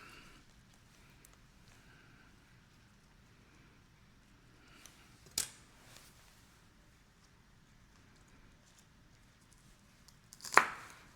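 A knife chops through green onion tails on a board in two isolated, sharp thwacks several seconds apart, close by amid near silence.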